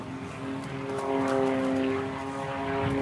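Single-engine propeller drone of an MXS aerobatic airplane performing a torque roll at an aerobatics competition, steady and moderately distant, swelling slightly in the middle with no voices.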